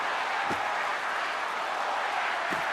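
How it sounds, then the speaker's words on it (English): Steady, dense crowd roar from a virtual hockey arena in NHL 26 during a Switzerland versus Norway World Championship game, a continuous wash of cheering and urging with two brief low thumps, no talk. "And the crowd urging for them to shoot as time ticks down."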